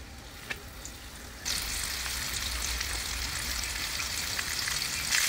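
Chicken fillets dropped into hot butter in a pan burst into a loud, steady sizzle after a quiet opening second, with crackling pops throughout and no talking.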